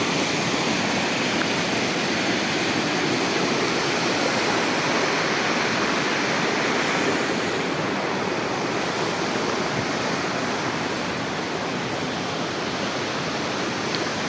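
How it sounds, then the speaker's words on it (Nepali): A winter waterfall near Tache village in Manang, Nepal, roars in a dense, constant rush of falling water, loud and unbroken throughout, with no voices. "तैपनि हिउँदमा पनि यतिको झर्ना देश आकर्षकै देखिन्छ।"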